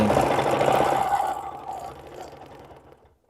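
A sewing machine stitches ruler-quilted circles, a rapid mechanical whir and knock up close that slows and fades to quiet toward the end.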